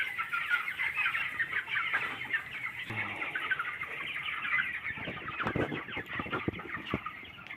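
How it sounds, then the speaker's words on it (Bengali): A flock of 26-day-old broiler chickens rushes toward feed grains, a dense, continuous chorus of clucking and chattering close by with occasional sharper calls. "এরা মুরগিরা খাবার দেখার পর কেমন তেড়ে আসছে।"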